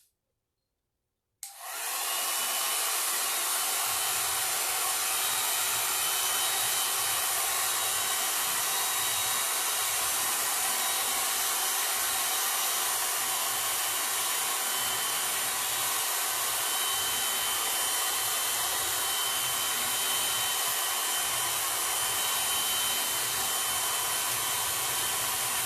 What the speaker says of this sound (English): I'm going to use the hair dryer to dry it again.